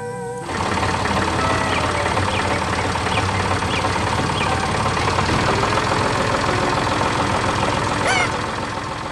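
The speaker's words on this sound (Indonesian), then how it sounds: "Dengan suara mesin yang tenang, traktor itu menggerakkan tanah dan menanam kehidupan baru." A yellow farm tractor engine starts up and runs at a steady idle with a low, even chugging hum, close and continuous, with faint high chirps briefly over it.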